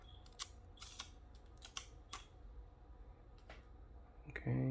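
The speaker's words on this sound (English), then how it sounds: "So let's take off our plastic." Protective plastic peeled off an Alienware 720M mouse, heard as a few crisp crinkles and tearing snaps spread over several seconds, close and quiet, ending in a louder rustle.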